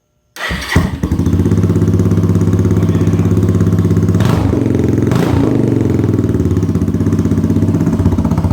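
A Suzuki TU250X motorcycle with a new muffler cranks and fires up after a brief silence, then settles into a loud, steady close-range idle with a couple of small blips.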